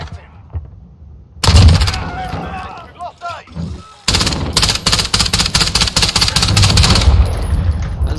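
Rapid gunfire from the Call of Duty Modern Warfare video game, Talsik Backlot map in a hardcore domination match, with bursts of loud automatic shots that turn into a long sustained volley near the end, after a quieter stretch with a voice.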